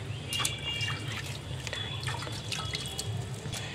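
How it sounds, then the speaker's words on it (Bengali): Water is poured over potted tuberose plants outdoors, a steady trickling and splashing with scattered drips, moderately close, while faint birdsong sounds in the background. "চলো, আমি ভালো একটু জল দিয়ে দিই গাছে।"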